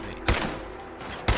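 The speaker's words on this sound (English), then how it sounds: "I heard gunfire." Two sharp gunshots in Fallout 4 ring out about a second apart over a steady background hum.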